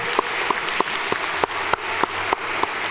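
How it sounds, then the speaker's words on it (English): An audience applauds Dr. Saunders at a 12th-grade West Baltimore gathering, with a rhythmic clap from a few hands standing out over a dense wash of clapping. "Man, just clap for her,"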